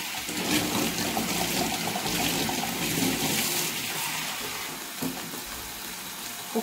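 Water pours steadily into a cooking pot holding thin bacon slices for a Christmas farofa, a continuous splashing rush that tapers off near the end with a small clink.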